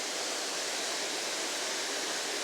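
A mountain waterfall in Taiwan pours in a steady, dense rush of white water, a constant close roar with no pauses and no voices.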